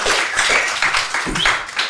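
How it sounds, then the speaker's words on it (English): A studio audience claps for boxer Mike Tyson, a moderately loud burst of scattered hand claps with uneven rhythm, close and fairly sparse. "Please give him a round of applause."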